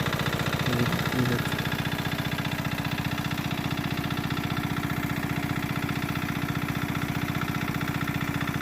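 Small engine driving an irrigation water pump for a mustard field runs steadily after starting, a continuous close-up mechanical drone with even rapid pulsing throughout.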